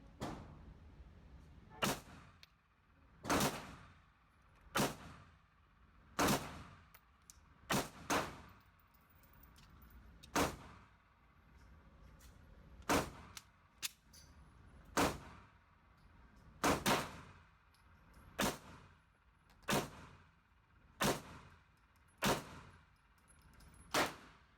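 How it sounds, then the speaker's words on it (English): Pistol shooting steel case ammo at 7 yards on a range, sharp cracks spaced a couple of seconds apart, each with a quick echoing tail, loud and close with no talking between them. "We'll go with the steel first. 5 shots."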